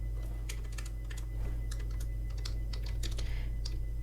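Typing an SQL query on a computer keyboard: quick irregular bursts of close, crisp key clicks over a steady low electrical hum, with no voice.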